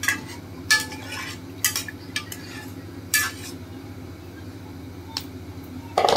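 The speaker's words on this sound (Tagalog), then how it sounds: "Tapos, haluin natin konti." Beef pares soup stirred in a cooking pot, giving a few scattered clinks and scrapes of a utensil against the metal over a low steady hum, with quiet gaps between the knocks.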